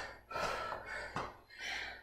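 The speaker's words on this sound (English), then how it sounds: "This one makes you breathe." Heavy, breathy exhalations and gasps from someone doing a boot camp workout, a few distinct bursts of breath, close and fairly quiet with no talking.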